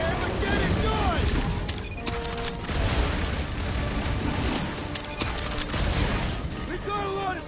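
Rapid bursts of gunfire in Marvel's Guardians of the Galaxy on PS5 crackle and boom continuously, mixed with clanking impacts and shouted voices over a dense, loud battle din.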